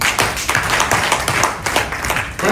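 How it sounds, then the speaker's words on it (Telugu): Brisk clapping from an audience at a Telugu meeting, given to someone speaker: a short burst of many hands with distinct rhythmic claps, fairly close, without talk. "క్లాప్స్ అండి మేడం గారికి."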